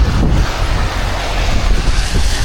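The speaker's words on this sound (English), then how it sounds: "Wet, windy morning." Strong wind on a wet morning on the Yorkshire Wolds Way buffets the microphone in a steady, loud roar with low rumbling gusts, no voices.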